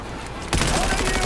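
Bursts of rapid automatic gunfire in the Cyberpunk 2077 video game on PS5, a loud sustained volley that starts abruptly after a quiet moment and fills the rest of the moment.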